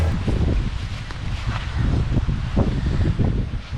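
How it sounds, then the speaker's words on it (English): Strong wind buffets the microphone with heavy low rumbling and gusty rustling, steady throughout with no voices. "it's so windy today. Extremely windy."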